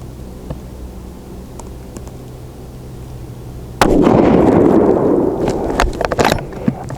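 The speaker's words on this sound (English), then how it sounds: "So let's get to shooting." Rifle shot from a TC Compass loaded with Sierra Palma 155-grain bullets, a single loud sharp crack after several seconds of quiet outdoor ambience, followed by a decaying rumble and a few faint clicks.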